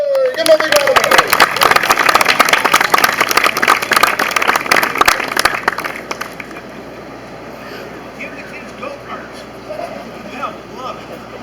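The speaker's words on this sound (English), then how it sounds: "Give him a big round of applause" Crowd at a Six Flags Discovery Kingdom media day claps and cheers for the park president, loud and dense for about six seconds before tapering into scattered claps, faint voices and room noise.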